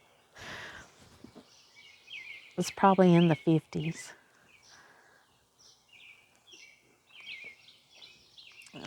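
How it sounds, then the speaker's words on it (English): Birds chirp and twitter in a garden early on a chilly Sunday morning, several short calls scattered through the clip, faint to moderate, while someone talks briefly in between. "Still listening to the birds"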